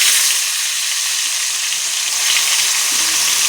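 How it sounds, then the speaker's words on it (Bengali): Shankar fish frying in hot oil in a pan, a loud, continuous close-up sizzle and crackle that holds steady throughout with no voices. "এখন একে একে মাছগুলো আমি ভাজা করে নেব, সুন্দর করে লাল লাল করে ভাজা করব মাছটা"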